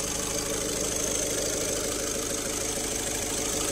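An Audi A1 Sportback engine idles just after an oil change, a steady close mechanical hum with a fine, even ticking rhythm that holds constant throughout, no voices over it.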